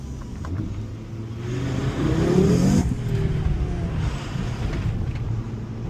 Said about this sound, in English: I'm not sure if my mic was really able to capture the engine noise on that tunnel